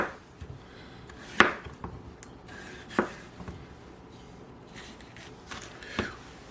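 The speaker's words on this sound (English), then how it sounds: "for the sides, we just slice the side away from the seeds" A knife slicing the sides of a bell pepper away from the seeds on a cutting board: faint, sparse thuds and cuts, with a few sharper knocks against a quiet room.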